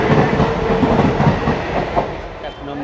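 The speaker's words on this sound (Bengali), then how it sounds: "দেখুন ট্রেন চলে যাচ্ছে গন্তব্যস্থলের দিকে।" A passenger train pulls out of platform 2 at Bongaon station with a loud, continuous rumble and rhythmic clatter of wheels on rails, heard close and filling the platform.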